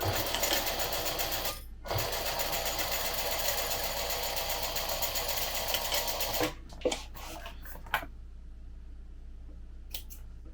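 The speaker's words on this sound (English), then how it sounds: "So I'm just going to baste that on at 1/8 of an inch." A sewing machine stitches a baste along a crossbody bag flap in a fast continuous whir for about six seconds, then stops, followed by a few soft clicks and handling sounds.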